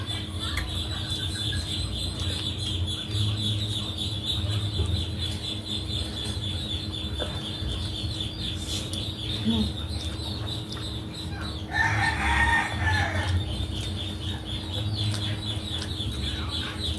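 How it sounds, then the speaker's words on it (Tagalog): Chicks and chickens making noise, with steady high peeping and clucking throughout. A rooster crows once near the middle, close and fairly loud over a constant background hum. "Ang ingay ng mga sisiw."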